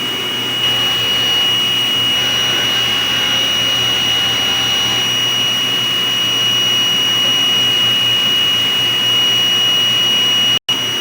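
A DTF printer runs a head cleaning cycle, giving a steady mechanical whir with a constant high electronic whine throughout, loud and close, with no talk.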